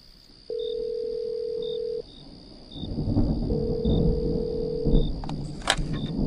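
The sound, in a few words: telephone ringing, waiting for answer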